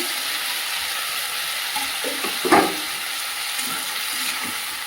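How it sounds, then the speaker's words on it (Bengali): Shrimp fry in a pan with a steady, moderate sizzle and hiss, broken by a few soft stirring scrapes and a brief louder clatter midway. "এই পর্যায়ে দিয়ে দেবো চিংড়ি মাছগুলো"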